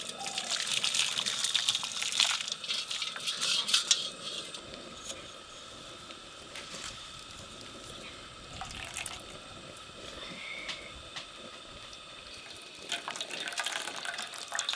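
Mutton cooking fat (roghan) being strained for biryani in a home kitchen, a soft running and dripping liquid trickle that stays faint and steady, with a few louder splashy bursts early on.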